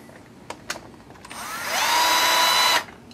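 A small electric power driver tightens big cap screws on an Axial Yeti RC truck build, with a couple of soft clicks and then a close, rising whir that holds for about a second before stopping abruptly.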